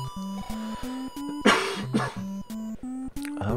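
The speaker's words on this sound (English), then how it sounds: "pardon me for all that coughing" A person coughs and clears their throat in a couple of short, harsh bursts over steady, looping electronic video game music.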